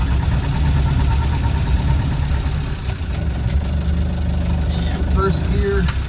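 A 1986 Land Rover 110 engine idles steadily at close range while the gearbox is shifted into reverse, with a low, continuous rumble throughout and a few faint mechanical clicks and squeaks near the end.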